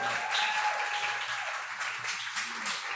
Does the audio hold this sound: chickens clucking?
no